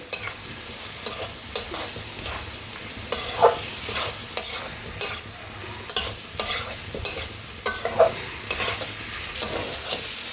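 Spice masala fries in oil over low gas heat for an egg and potato bhurji curry, a soft continuous sizzle broken by repeated scraping strokes of a spatula stirring the pan, close and rhythmic.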